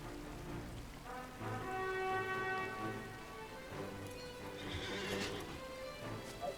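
In a video game, a wild horse whinnies loudly with long tonal neighs over steady clip-clopping hooves, with a rain-like patter behind it and no talk.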